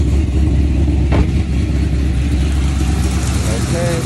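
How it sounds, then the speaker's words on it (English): A cammed 2015 Chevrolet Camaro with a cold air intake running, a loud, steady, deep engine rumble heard up close and continuously, with a brief knock or handling noise near the start. "Okay, so here's the vehicle itself. It's running right now."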